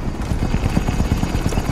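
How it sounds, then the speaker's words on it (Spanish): A video game helicopter flying off with a cargo load aboard, a close, loud, steady rotor thump chopping rapidly and evenly throughout with no break. "Helicóptero saliendo con un depósito a bordo."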